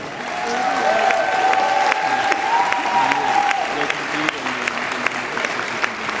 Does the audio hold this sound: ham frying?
no